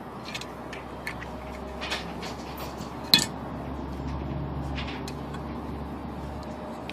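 Metal bolts and a gasket being fitted to a mason jar lid for a vacuum chamber, making sparse light clinks and taps with one sharper metallic knock, close up and quiet.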